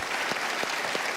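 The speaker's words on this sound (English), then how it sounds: "So I want to give you a round of applause on that." Studio audience applause on a daytime talk show, a steady dense wash of clapping throughout the short stretch, fairly loud, with no talk over it.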